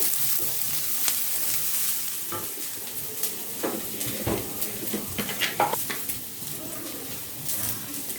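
Two large onions sautéing in oil toward golden brown for a home-style oyster mushroom kulambu, with a steady sizzle broken by repeated spoon scrapes and stirs against the pan.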